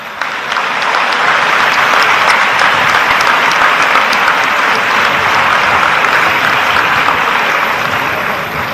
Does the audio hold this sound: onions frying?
no